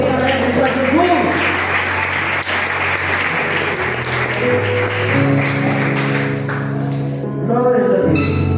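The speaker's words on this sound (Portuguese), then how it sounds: "Vamos receber o servo de Deus com palmas bem alegres para Jesus." A church congregation at an evening service applauds joyfully to welcome a preacher, the clapping mixed with sustained keyboard chords and the ambient murmur of a loud worship hall.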